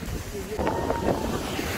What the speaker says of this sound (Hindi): बहुत डैम हवा चल रही है यहाँ